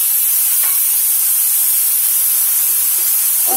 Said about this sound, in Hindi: अब हम इसमें बारीक कटा टमाटर मिला देंगे